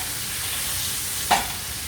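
Sole fillets fry in butter in a pan with a steady, even sizzle, close and constant, broken once by a brief louder crackle or stir before settling back.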